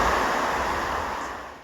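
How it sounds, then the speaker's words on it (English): A main waterfall at El Limon in the Dominican Republic pours in a steady, dense hiss of falling water, loud and close at first, then fading slightly toward the end. "Can't even see Andrea, she's under the main fall."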